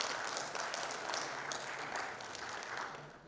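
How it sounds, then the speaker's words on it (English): Audience applause at a US–India partnership celebration meeting, a steady wash of clapping heard from a distance, moderately quiet and unbroken throughout. "Give yourselves a round of applause for that."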